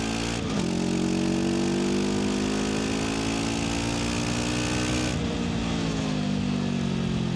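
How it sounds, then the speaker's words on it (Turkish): A VOGE 525 DSX motorcycle on its stock exhaust pulls hard while riding, its engine note holding a steady loud drone that climbs smoothly in pitch, with a brief dip and rise as the throttle is rolled on again. "Şöyle bir gaz açalım."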